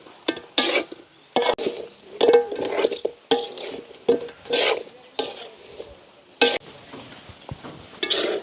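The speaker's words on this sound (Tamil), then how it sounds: "நல்ல வடிவாக பிரட்டி விட வேணும்" Meat tossed and stirred in a pan with sauce, garlic, ginger and onion, a village cooking setup, giving repeated loud scraping and clattering bursts of a utensil against the pan with short pauses between strokes.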